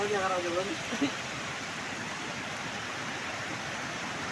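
Mountain water from the hills rushes steadily down a small stream in heavy monsoon rain, a dense continuous broadband roar that stays even throughout, with a brief voice near the start.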